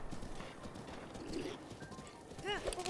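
The horse Epona gallops in Zelda: Breath of the Wild in Master Mode, hooves drumming in a quick, steady rhythm with a short whinny near the end, under game sounds and a voice.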